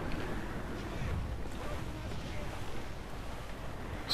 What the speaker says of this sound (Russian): Сносит так круто, вообще ветер сильный.